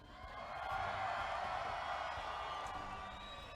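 A packed arena crowd at a live CS:GO esports group-stage match at the IESF World Esports Championship, cheering and whooping in a sustained roar that swells and then eases slightly, with a host's voice faintly over it.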